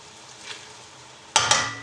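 A spoon scrapes and clanks twice against a pan of chorizo risotto with red pepper, two sharp metallic strikes after a quiet stretch, over a faint simmer.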